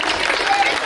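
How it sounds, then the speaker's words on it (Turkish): A crowd claps for champion football players, a brief burst of dense, even applause at close range. "Hadi şöyle bir alkışlayalım güzelce arkadaşlar."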